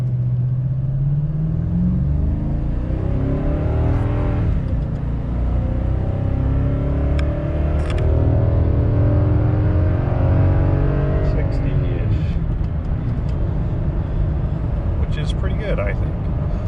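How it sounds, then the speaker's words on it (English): A 2021 Toyota Tundra pickup accelerating hard from a rolling start while towing a trailer, engine drone climbing steadily in pitch through the gears under continuous talking in the cab. "I'm going to do a light roll and then get on it pretty hard to do 60, and you can see how this Tundra does."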